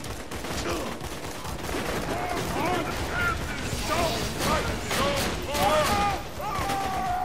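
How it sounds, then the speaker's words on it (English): Shotgun fire in Borderlands 2 during a slaughterhouse round, with repeated heavy blasts and mechanical clacks coming in a busy, uneven barrage over dense combat noise and occasional voices. "Forgot how good the shotgun is."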